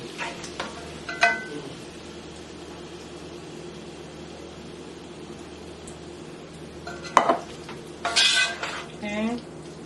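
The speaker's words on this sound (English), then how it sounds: "now I'm going to go ahead and pour in my Manwich. And I'm just going to lower this to like a simmer" Manwich sloppy joe sauce simmers quietly in a pan under a soft, even hiss, broken by a few sharp clinks and scrapes of a utensil against the cookware.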